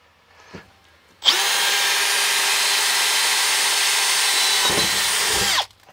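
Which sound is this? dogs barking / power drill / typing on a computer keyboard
power drill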